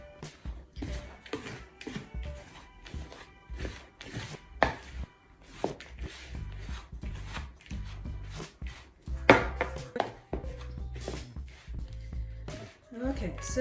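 Bread dough for a soft three-seed loaf is worked with a dough hook, producing rapid rhythmic knocking and scraping in a bowl, close and continuous, with a voice talking over it.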